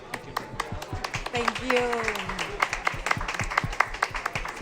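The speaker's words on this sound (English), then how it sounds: "A round of applause" Scattered clapping from a conference audience in Santa Marta, Colombia, sharp individual claps in a loose rhythm while a speaker talks over them.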